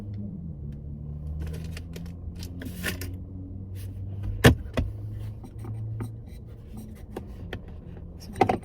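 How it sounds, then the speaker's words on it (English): Small rattles and light clicks come and go over the low hum of a moving car, with a couple of sharper knocks. "Something is rattling and it is driving me nuts."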